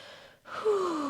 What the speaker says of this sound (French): Prends une grande respiration, une respiration relaxante peut-être